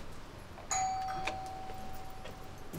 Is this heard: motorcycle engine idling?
no